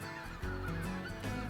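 White-fronted geese honk in a dense, continuous chorus, many close overlapping calls filling a short burst with no voices.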